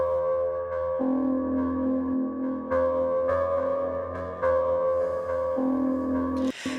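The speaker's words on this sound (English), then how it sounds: "a more harmonically rich source called Glass Heaven sounds like this." Glass Heaven, a harmonically rich lead source from Heavyocity Mosaic Leads: clear, glassy sustained synth notes with bright stacked harmonics, moving through a slow sequence of held pitches over a steady low drone.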